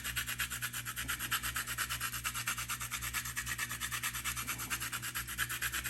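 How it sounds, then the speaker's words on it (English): Fresh nutmeg grated over an egg custard pie, a soft, quiet, rhythmic rasping scrape repeating in quick even strokes, close up with no talking. "we want to grate some fresh nutmeg"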